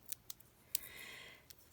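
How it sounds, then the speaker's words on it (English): Paper snips slicing through junk journal paper: a few crisp, quick cuts with short pauses between them, close and fairly quiet, and nobody speaking. "Here are my paper snips."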